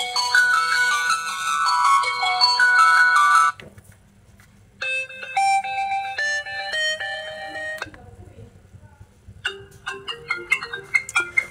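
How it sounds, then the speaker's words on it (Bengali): iPhone-style ringtone playing from a Maxtel Max 15 Pro phone, bright chiming melodic tones in repeated phrases with short pauses between, close and clear. "ফোনটিতে কিন্তু আইফোনেরই রিংটোন দেওয়া আছে"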